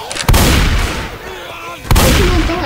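Gunfire in the zombie shooter Left 4 Dead 2: two loud, heavy bursts of shots, one at the start and another near the end, with a rumbling in-game ambience between them and no talk.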